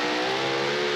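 Supercharged super modified pulling tractor engine roaring at full throttle on a pulling track, a loud, steady, dense mechanical howl that holds without break for the whole second.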